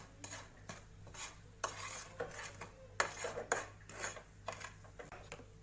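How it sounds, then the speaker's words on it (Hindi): Crushed mustard and fenugreek seeds stirred into a mixture for sweet-sour lemon pickle, a spoon scraping and clinking against a bowl in repeated short strokes, close and fairly quiet. "कुटा हुआ राई और मेथी दाना ऐड कर देंगे और इसको भी हम अच्छे से मिक्स कर देंगे।"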